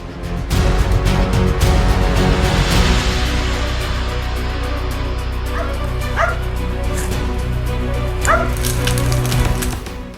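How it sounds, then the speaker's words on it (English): Several hunting dogs chasing wild pigs bark and yip repeatedly over a steady low rumble, the barks fairly close with a few whimpering yelps mixed in. "use powerful hunting dogs to help them search and chase herds of wild pigs."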